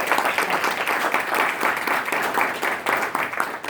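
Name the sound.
audience applause for a pitch presenter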